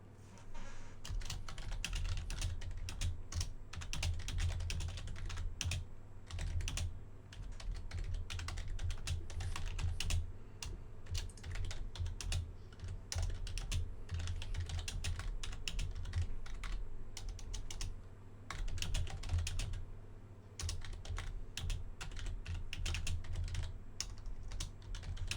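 Computer keyboard typing at a tabletop role-playing game session, rapid irregular key clicks continuing for about twenty-five seconds, faint and close, over a low steady hum with no talk.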